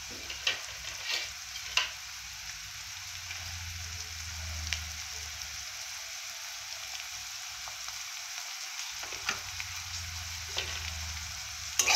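Onions fry in oil with salt, giving a continuous bright sizzle close by, with intermittent low scraping and clinks as they are stirred in the pan, and no voices.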